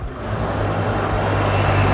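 A car engine idles and rolls up nearby with a low, steady hum under light traffic noise, growing slightly louder as it arrives.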